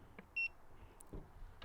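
An Ecoflow Delta Max portable power station gives a short, clear electronic beep as it powers on, faint and close, followed by light handling clicks and rustle.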